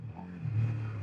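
A Suzuki SV650 motorcycle engine with stock exhaust hums and rumbles briefly, swelling slightly as it revs, with a low steady exhaust note.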